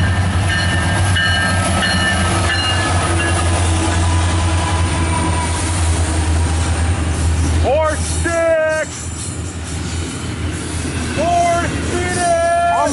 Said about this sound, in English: I'm recording a train